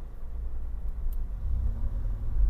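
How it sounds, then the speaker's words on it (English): A car drives past on a residential street in Muscat, Oman: a steady low engine rumble close by that swells slightly louder toward the end, with no talk. "Car come by me."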